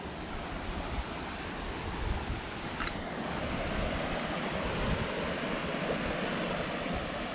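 A river flows steadily under rainy skies, with clear, cold creek water mixing into muddier water: a broad, constant rushing wash, close and even in level, with no voices.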